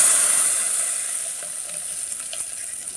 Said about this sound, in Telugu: ఇలా పోపు వేసుకోవాలి